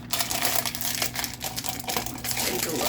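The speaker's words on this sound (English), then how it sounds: "Lots of crinkling there." Plastic packaging from a Christmas-themed quilting box being opened, with close rustling and crinkling plus a few sharp ticks and snips, steady and fairly quiet with no talking.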